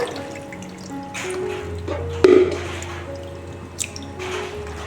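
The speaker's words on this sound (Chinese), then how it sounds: "再加水" Water trickles and drips into a bowl of soaking preserved mustard greens (mei cai) in a home kitchen, close and fairly soft, with one brief louder splash partway through.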